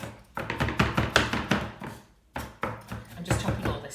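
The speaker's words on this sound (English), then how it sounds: "I'm just chopping all this together, makes it a bit easier, quicker." Fresh ginger being chopped on a board for a Goan prawn curry, a steady run of close, sharp knife taps in quick bursts with a short pause midway, no voices.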